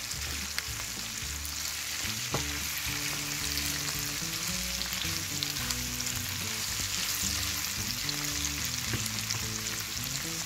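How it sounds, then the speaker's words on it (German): Mushrooms and onions fry and braise together in a pan, a steady, close sizzle with occasional stirring scrapes running throughout, no voices. "Zu unseren Zwiebeln gebe ich nun unsere Champignons. Die dürfen auch ein wenig mitschmoren."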